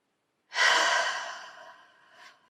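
A single deep exhale during a deep breathing exercise, a close, breathy rush that starts strongly and fades over about two seconds, with a small final puff at the end.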